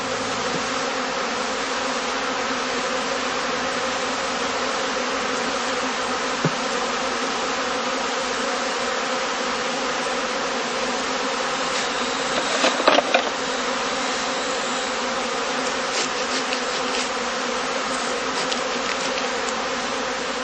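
Honeybees in a heather skep apiary on heathland, a dense continuous buzz of many bees, steady and close throughout with a brief louder flurry partway through and no voices.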